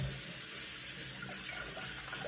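Saltfish being rinsed under a running kitchen tap, a steady continuous stream of water splashing into a sink, close and fairly loud throughout with no talking.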